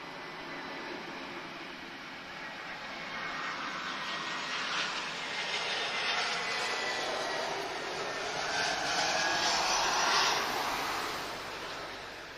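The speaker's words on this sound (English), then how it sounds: "Okay, so A330 Neo off to Sao Paulo" An Airbus A330neo jet taking off at Lisbon Airport, bound for São Paulo, roaring with a broad, steady engine rush that swells toward the end, heard from a distance with no voices.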